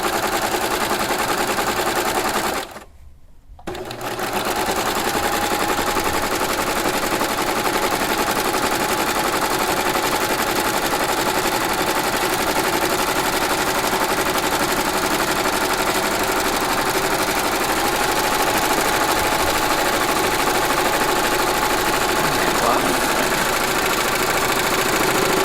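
A standard serger runs steadily on a flatlock stitch with a short stitch length, joining two pieces of fabric. The motor and needle hum is continuous and fairly loud throughout, with a brief pause near the start.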